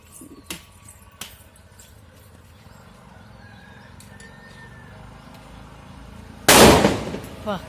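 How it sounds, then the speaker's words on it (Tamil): A few sharp pops ring out early on, then a loud, crackling burst of firecrackers erupts close by near the end, trailing off with a last snap. "வெடி போட ஆரம்பிச்சிட்டாங்க"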